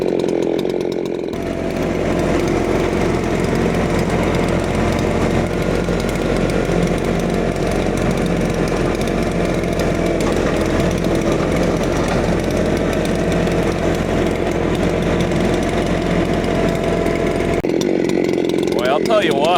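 A ported Sugihara-equipped chainsaw bucks firewood, its engine screaming loud and steady at full throttle for most of the run before easing off near the end, with a voice talking over it.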